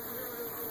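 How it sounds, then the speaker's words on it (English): Bees buzz around beehives at the base of a bluff near Yowah, a faint, continuous outdoor hum with no speech. "I think you should be able to see all the bees there and the work they're doing"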